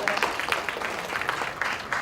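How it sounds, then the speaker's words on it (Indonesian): Audience claps for three speakers at the close of a panel discussion on the stock market, moderately loud, steady and brief. "Tepuk tangan buat ketiga pembicara kita."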